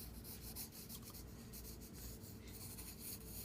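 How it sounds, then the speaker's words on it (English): A pencil sketching an ellipse on paper with light, repeated strokes, giving a steady close scratchy rubbing that continues without pause and with no voices. "Trying to draw my ellipse as accurately as I can."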